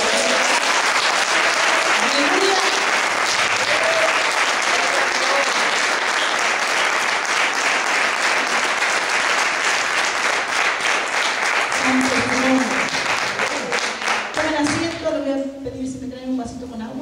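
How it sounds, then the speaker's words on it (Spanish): Loud, sustained applause from a church congregation at an evening faith service fills the space, thick and continuous with crowd noise and voices mixed in, tapering slightly near the end as a voice speaks over it. "¿Cuánto le dan un aplauso al Señor?"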